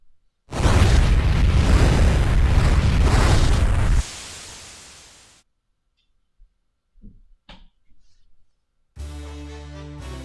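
Rydia casts a fire spell in the Final Fantasy IV video game: a loud, roaring blast lasting about three seconds fades into a dim hiss, followed by a few short soft effects and then game music.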